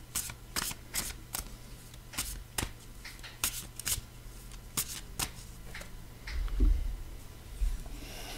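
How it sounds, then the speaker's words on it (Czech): A deck of cards is riffled and shuffled in repeated crisp, close bursts with short pauses between them, and faint handling noise in the background. "Já si ještě tady zamíchám, karty mi chodí."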